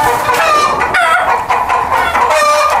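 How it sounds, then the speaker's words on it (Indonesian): A large flock of five-month-old hens clucks and squawks loudly and continuously close by in a breeding coop in Bali, with overlapping calls and occasional crowing. "Pasukan ayam betina bosku"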